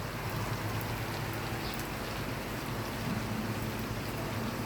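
Steady rain falls beside an outdoor hotel swimming pool in front of guest rooms, a broad, even hiss that stays constant and moderately close for the whole stretch, with no voices over it.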